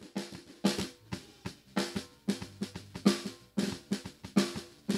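Soloed bottom-mic snare drum with a pronounced ringing tone, sharp hits in an irregular groove pattern each trailing a sustained pitched ring, close and fairly quiet.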